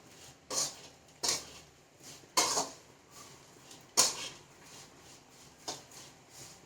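Curry leaf pickle with turmeric powder being stirred in a pan, with a handful of separate metallic clinks and scrapes of a spoon against the pan at irregular intervals, fairly quiet.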